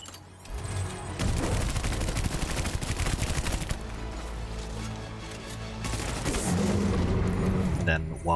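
Assault rifle gunfire in Death Stranding Director's Cut, dense repeated shots in sustained bursts across the whole stretch, loud and close, with game music and effects layered underneath.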